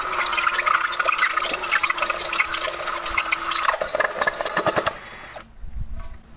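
A power drill with a step bit enlarging a hole whines steadily and loud for several seconds, then stutters in short bursts before stopping, leaving a brief quiet hum.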